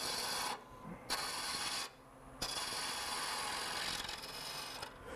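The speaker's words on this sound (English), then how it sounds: "I just make like a 45 degree cut" Lathe tool cutting a 45-degree corner on a spinning wood blank for a coffee scoop, a faint steady rasping hiss broken by two short gaps.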